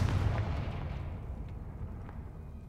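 Confringo fire spell exploding in the video game Hogwarts Legacy, a loud deep boom at the start that rumbles and decays over about two seconds, with faint crackles trailing off.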